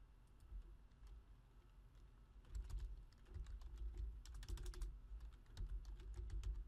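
Faint keyboard typing into a slide, with irregular bursts of soft key clicks and a quick flurry midway, set against a low room rumble.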